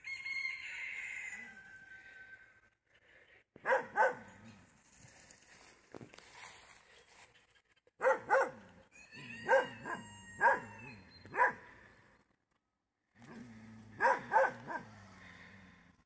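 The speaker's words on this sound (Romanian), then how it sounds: "O ieșit vecinul meu din curte acum și de aia latră." Dog barking in bursts at a neighbour outside in a rural yard with goats, several sharp barks spread across the clip with pauses between, while a rooster crows nearby.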